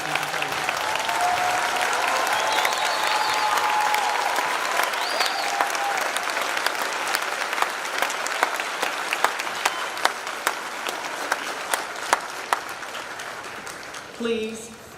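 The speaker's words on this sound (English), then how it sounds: "let's please rise and give the staff and cadre of the Fort Gordon Youth Challenge Academy a round of applause" An audience claps loudly and continuously at a Youth Challenge Academy graduation ceremony, the applause thinning into scattered claps before a voice speaks at the end.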